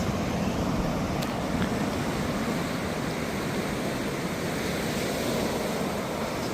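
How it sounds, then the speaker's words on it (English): Pacific ocean waves on the Southern California coast wash and roar continuously near a rocky shore, a loud, steady broadband rush with no voices. "Listen to that. Waves."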